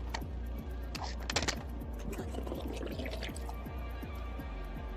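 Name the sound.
drink spilling from overflowing cup onto the ground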